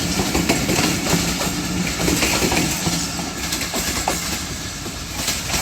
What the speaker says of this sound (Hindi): बहुत ज़्यादा अवाम इस ट्रेन में मौजूद है जो अपने मुकर्ररा टाइम पर लाहौर इंटर हो रही है